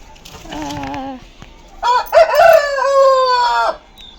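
A rooster crows loudly nearby, a long drawn-out call preceded by softer clucking, with nothing else around it.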